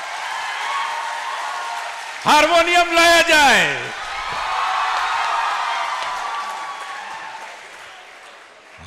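Audience clapping and cheering at a live talk event, rising suddenly after someone speaks, then fading into a noisy hall.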